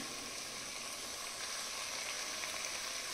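Chopped carrots hit hot oil in a pressure cooker for a carrot and potato dish, giving a steady close sizzle and hiss that swells slightly partway through, with no voices.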